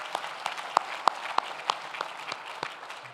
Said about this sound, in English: How about one more round of applause for Orange Peel?